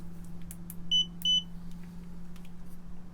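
A multimeter gives two short, high beeps while a Meanwell RT-65B power supply is checked for shorts, its capacitor charging, heard over a steady low hum on a workbench.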